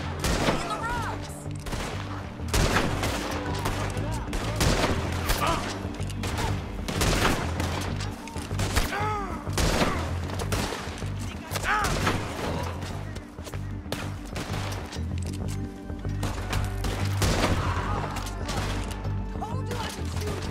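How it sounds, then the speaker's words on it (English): Sustained gunfire in the Western video game Red Dead Redemption 2, rapid overlapping rifle and revolver shots in a running firefight, loud and dense throughout about twenty seconds, with occasional voices mixed in. "Told you I could shoot a gun, didn't I?"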